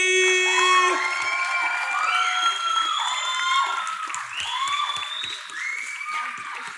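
A talent-show audience cheers for contestant Zoe at Talent Search Cymru callbacks, a loud, sustained wash of high whoops and shouts rising and falling over steady crowd noise and clapping.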